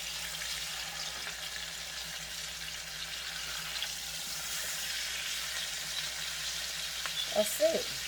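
Garlic pork chops sizzling steadily in a pan as they brown, a continuous close frying hiss with a few brief clatters of utensils near the end.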